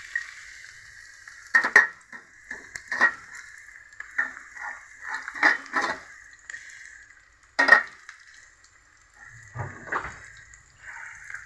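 Onion and green chillies hit hot oil for a country-chicken curry, giving a steady sizzle with repeated louder stirring scrapes and clatters in bursts, close and alone.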